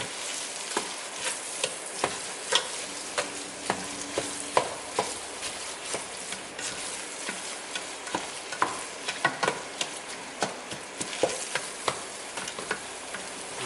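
Taco meat fries and sizzles steadily in a pan while a utensil stirs and scrapes through it, with irregular close clicks and taps over a constant hiss and no talking.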